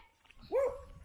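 A stray dog in a rural spot in the Philippines gives one short, rising bark-like yelp at fairly close range, with a fainter yip just after.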